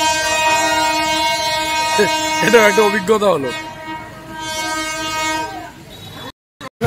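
Darjeeling toy train horn sounding loud and close in long steady blasts, with a short burst of talk over the middle before the horn breaks off near the end.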